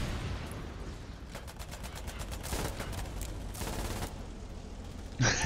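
Sustained gunfire from a Foxhole tank battle, with rapid bursts and heavy shots rolling over each other at a steady loud level, closing with a sharp close blast.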